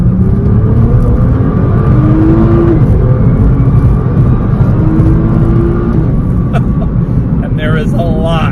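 A Nissan GT-R Nismo pulls hard under acceleration, its engine note climbing in a loud, steady rising drone with gear-change dips, heard from inside the car, with someone talking over it.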